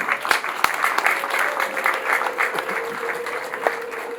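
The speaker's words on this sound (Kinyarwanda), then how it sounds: "Mumfashe tubashimire amashyi n'impundu" Crowd applause at a Rwandan family gathering, steady clapping from many hands with scattered sharper claps, lasting about four seconds without pause.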